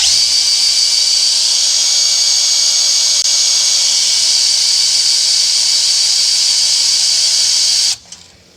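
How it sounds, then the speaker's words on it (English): An electric drill priming the oil pump of a Cadillac 472 engine, a loud steady high-pitched whine held for about eight seconds before cutting off abruptly. "let's turn the drill up a little faster"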